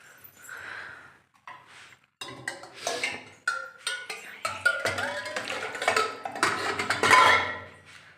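Dishes, pots and utensils clink and clatter in irregular bursts, close and fairly loud, under running tap water with a few faint voices.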